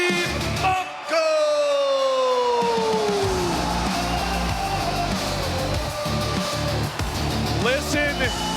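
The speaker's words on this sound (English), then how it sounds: "Listen to this crowd lose their mind for Steve Mocco" An arena crowd at a freestyle wrestling event roars and whoops loudly for wrestler Steve Mocco, a sustained swell of cheering and yelling with a siren-like gliding tone rising over it early on.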